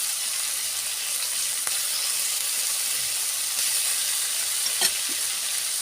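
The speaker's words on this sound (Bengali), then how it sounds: "দিয়ে আমি সুন্দর করে কলিজাটা ভুনা করে নেব" Boiled liver fries in spiced masala in a pan, giving a steady, close sizzle and hiss with a couple of faint stirring taps.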